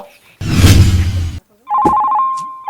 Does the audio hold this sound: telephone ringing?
yes